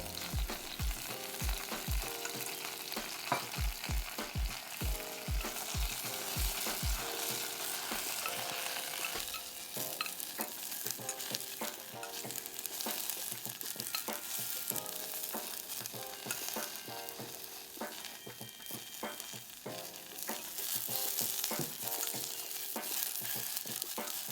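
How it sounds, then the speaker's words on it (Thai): Bok choy sizzles and crackles in a hot pan, with rhythmic scraping and tossing of a spatula early on, then a steady frying hiss. "ผัดผักกวางตุ้งจนสุกและนำไปพักไว้"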